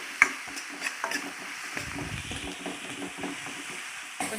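Chopped onions frying in a pan for a village-style chicken curry, giving a quiet, steady sizzle broken by occasional scrapes and stirring knocks, with no talking.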